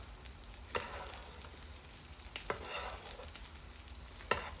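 Smoked haddock fishcakes fry gently in a pan with a steady low sizzle, broken by a few sharp scrapes or bastes of the spoon.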